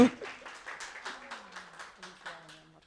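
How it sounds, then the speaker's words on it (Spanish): Applause at a church award ceremony for children's Bible Olympiad winners: a run of evenly spaced claps keeps time beneath a voice that talks throughout. "un aplauso"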